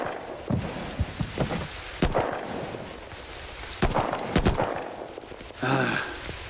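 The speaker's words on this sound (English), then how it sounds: "I just want to get out of this fucking rain" Steady rain falls in a cutscene from the video game The Division 2, a constant wash of downpour with scattered sharp cracks and thuds, and a brief muffled voice near the end.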